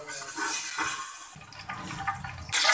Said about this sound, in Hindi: स्ट्रेनर में डाल के इसका पानी हम रिमूव करते हैं।